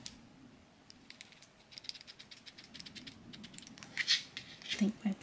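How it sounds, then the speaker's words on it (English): Dull scissors trim a doll's hair up close, making a quiet run of crisp clicks and snips. Sharper cuts come near the end, over a soft rustle. "my problem is my scissors are not very sharp"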